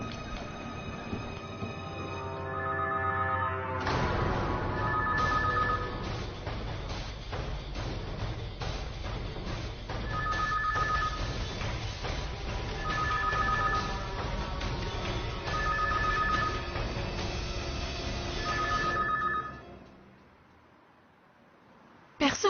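A telephone rings repeatedly in short double bursts over a steady rumbling background, with speech mixed in, until the noise fades near the end.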